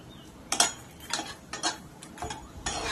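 Makhana fox nuts frying in hot ghee in a wok, heard as a series of light clinking stirs and scrapes of a spoon against the pan, spaced irregularly and fairly quiet.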